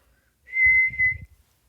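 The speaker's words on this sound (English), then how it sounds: "Coach Makins blew his whistle." A coach's whistle sounds on a basketball court as one steady shrill tone of just under a second, loud and close, with a low rumble beneath it and nobody talking.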